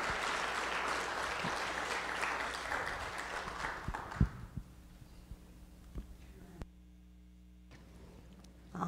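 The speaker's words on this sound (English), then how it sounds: "Okay, we can give them all a round of applause." A church congregation claps for a group of young members standing at the front, a broad roomy wash of applause that thins out midway into a few scattered claps, then fades to a low hum and near silence.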